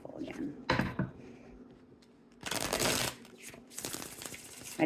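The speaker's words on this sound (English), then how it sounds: "I'm going to shuffle again." Tarot cards are shuffled in short bursts, three or four crisp riffling flurries separated by pauses, close and fairly quiet, with a voice speaking faintly between them.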